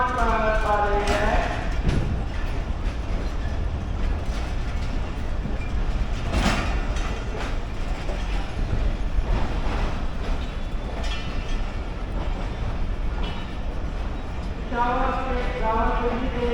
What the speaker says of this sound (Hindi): रावलपिंडी से लाहौर आकर कोयटा जाने के लिए चालीस town Jafar express platform number 5 पर आ रही है।